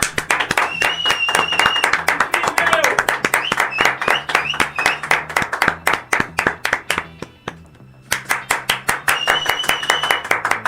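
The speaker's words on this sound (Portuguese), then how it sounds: "palmas pro Walter Salles." A crowd claps steadily in rapid, even rhythm, near and loud, with a brief pause before the applause resumes.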